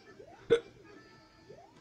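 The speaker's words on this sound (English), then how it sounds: "I'm getting the hiccups from the fucking chicken patties earlier" A single sharp hiccup from a man, close up and abrupt, with background game music playing softly around it.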